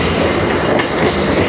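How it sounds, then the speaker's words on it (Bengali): A local train on the B.B.D. Bag–Sealdah line via Majerhat rolls along the tracks near Tollygunge station, giving a loud, steady rumble with faint rhythmic wheel clatter close by throughout. "ট্রেন এখন আমাদের ছেড়ে দিল টালিগঞ্জ স্টেশন থেকে।"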